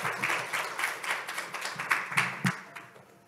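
An audience claps at a government greenhouse gas reduction briefing, a short burst of steady applause that fades out at the end of the clip.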